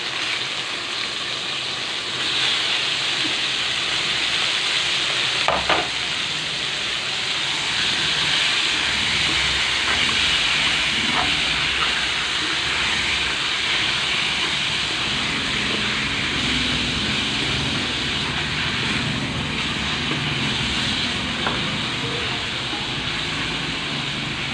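Chicken pieces for adobo frying in a hot pan, a loud, continuous broadband sizzle and hiss that sets in after a quiet start and holds steady throughout, with a few faint clicks and no speech.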